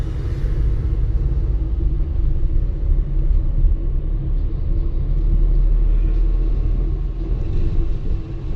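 The engine of an automatic car runs with a loud, steady low rumble that holds close and even throughout, without distinct rises in pitch.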